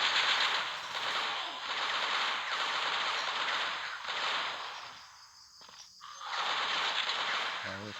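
Rapid automatic gunfire from the Zombie Shooting game mowing down zombies aboard a train, long rattling bursts with a brief lull near the middle before the firing resumes just as loud.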